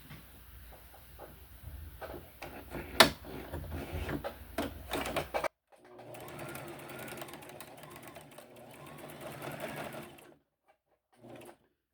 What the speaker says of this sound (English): we're going to take this to the machine and we're going to sew it using 5/8 inch seam allowance